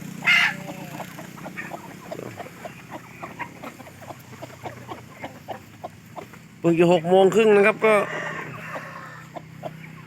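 Jungle fowl chickens gather in the early morning waiting for food, clucking in scattered short calls close by, with a louder run of calls near the end while someone talks over them.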